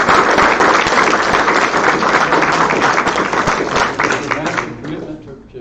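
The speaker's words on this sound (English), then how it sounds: "We should give all of these candidates a big round of applause." An audience at a political party convention claps for the candidates in loud, dense, sustained applause that fades out toward the end.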